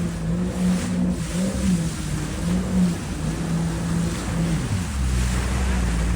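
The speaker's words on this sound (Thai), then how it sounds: "ตัวนี้เป็นเรือแม็กซัมนะครับประมาณ 25ฟุตนะครับ" A 25-foot Maxim boat with a newly fitted diesel engine runs on open water, its engine droning steadily under wind rush and splashing waves, loud and close throughout with no speech.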